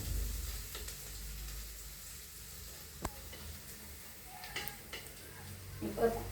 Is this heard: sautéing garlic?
yes